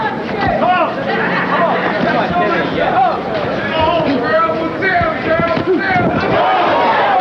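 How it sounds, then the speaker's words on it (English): A boxing crowd at the Tim Witherspoon vs Alfonzo Ratliff fight roars and chants a fighter's nickname, a dense, loud, continuous wall of voices and cheering filling the arena throughout. "people chanting, "Terrible Tim, Terrible Tim.""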